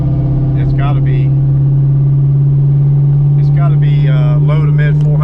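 A 1999 Ford Mustang fitted with a Kenne Bell supercharger and 3.27 gears runs with a loud, steady engine drone that holds nearly even throughout, while someone talks over it.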